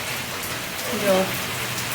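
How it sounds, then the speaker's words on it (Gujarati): Heavy monsoon rain pours steadily on a Dussehra day, a dense continuous hiss close by, with a brief spoken word in the middle. "ફૂલ એટલે ફૂલ વરસાદ છે એક દશેરાનો"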